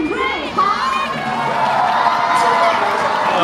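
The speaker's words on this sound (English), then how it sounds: "the crowd goes wild" Crowd at a speedcubing competition erupts in cheers and shrieks as a competitor is welcomed, loud and close, with an announcer's voice over the excitement.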